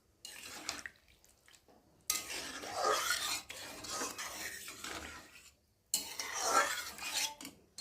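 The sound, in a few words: scraping spices off the sides of a wok while cooking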